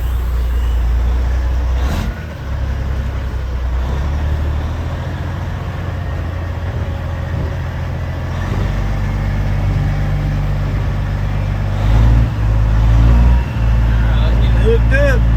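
Red International truck idling and rumbling nearby, with occasional sharp hissing bursts of air brakes released over the engine drone.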